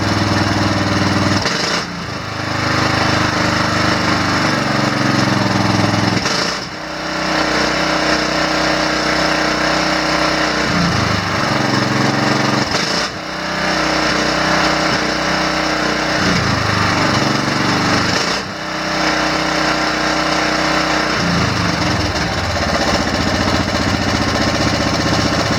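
A small Briggs & Stratton gasoline engine runs loudly and steadily after a governor adjustment, with a rough rattling drone that briefly dips and revs several times.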